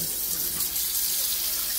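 Water runs steadily from a newly installed kitchen faucet into a sink, a continuous close hiss with no talking.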